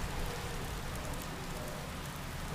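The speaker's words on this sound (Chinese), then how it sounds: "下雨了" Steady rain falls in a drama scene, a dense, even hiss of drops on surfaces filling the whole stretch with no pauses or voices.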